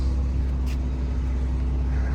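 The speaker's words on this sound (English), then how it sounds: "I think that's a combination of my fan and my AC going off because I got my car idling in the hot sun here" Genesis G70 3.3L twin turbo sitting at idle in hot sun, with a steady low engine hum plus the whoosh of the cooling fan and air conditioning running together, close and continuous.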